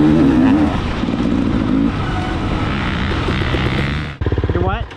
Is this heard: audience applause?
no